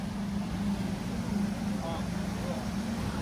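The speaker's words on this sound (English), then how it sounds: "Engines are fired up." Engines of the Royal Caribbean cruise ship Oasis of the Seas run as it departs down a canal, a steady low hum droning throughout, with faint voices over it.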